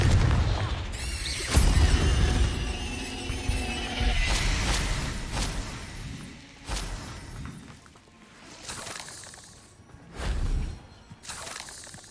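Repeated spell blasts in a Hogwarts Legacy battle, sharp shattering booms and crashes stacking over one another with loud bursts and debris, the last few hits spaced apart and fading toward the end.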